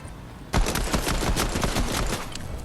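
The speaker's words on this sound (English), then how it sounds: "someone's firing on me" Sudden burst of rapid automatic gunfire erupts and keeps rattling steadily, loud and close, aimed at the player in a Fortnite Chapter 2 Season 3 match; no talking over it.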